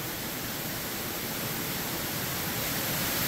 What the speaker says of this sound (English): water is rushing down the sluiceway and into the crib